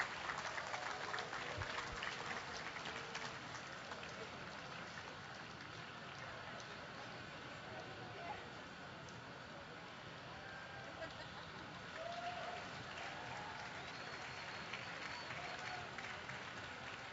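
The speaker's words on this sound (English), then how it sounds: "let's help him bring it home to another round of applause for Grady and Moves Like Jagger." An audience at a Minnesota State Fair llama costume competition applauds. The clapping is faint and distant and continues steadily for the whole stretch as a dense, even wash.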